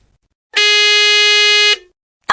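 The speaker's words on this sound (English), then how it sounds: "you press any button on your phone, and we'll hear a buzzer" A single loud, flat electronic buzzer triggered from a phone blares for just over a second, then cuts off.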